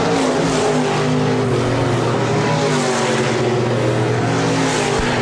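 Stock cars roaring around a dirt speedway at Park Jefferson Speedway, engines loud and close, a steady dense drone with layered harmonic whines as the pack passes through, no talking.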